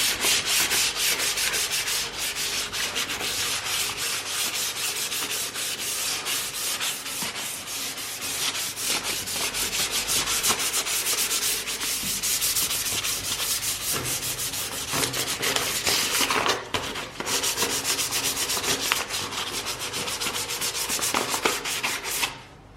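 Sandpaper hand-sanding 2K high-build primer in a Toyota Supra engine bay, a continuous close scratchy rubbing with quick back-and-forth strokes that runs steadily throughout, no talking.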